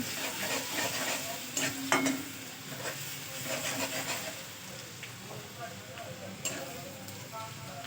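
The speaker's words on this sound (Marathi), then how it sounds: "यामध्ये तेल आपलं गरम झालं आहे, आपण यामध्ये घातलं आहे लसूण. हलवून घेऊया याला." Garlic frying in hot oil and being stirred in a pan for sarson ka saag, a steady sizzle with scraping stirs and occasional clinks close up, while someone talks.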